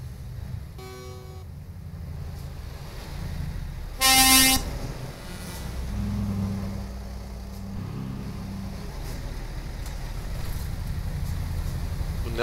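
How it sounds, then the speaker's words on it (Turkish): In Euro Truck Simulator 2 multiplayer, a vehicle horn gives a short faint toot, then a loud blast about half a second long a few seconds later, over a steady engine and road drone. "Bak bir de kornaya basıyor"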